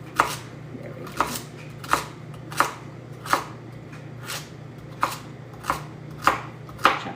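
A knife chops carrots on a cutting board in a home kitchen, about ten sharp, evenly spaced cuts in a steady rhythm, close and clear over a faint low hum.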